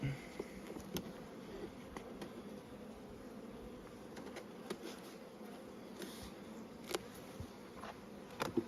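Honey bees buzz steadily around an opened beehive during a brood box inspection, a dense continuous drone with faint clicks and rustles of hive handling throughout.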